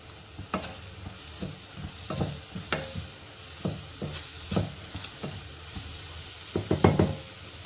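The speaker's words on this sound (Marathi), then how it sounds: "थोडी कोथिंबीर घालून थोडं परत परतून घेते." Eggplant bharit with fresh coriander sautéing in oil, a soft continuous sizzle broken by repeated scraping and tapping strokes of a spoon against the pan, close and steady, with no voices.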